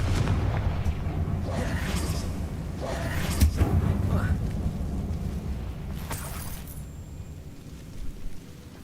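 A Confringo fire spell detonates inside an abandoned mine in the video game Hogwarts Legacy, giving a booming mid-clip blast over a steady rumble of game ambience, followed by smaller bursts.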